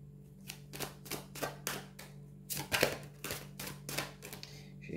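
Tarot cards are drawn and handled one after another, a series of crisp close flicks and taps in irregular rhythm over a low steady hum, with no talk.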